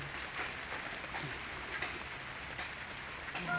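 Steady rain falling during a storm, a continuous even hiss of drops on surfaces, fairly close and moderate in level, with no talking.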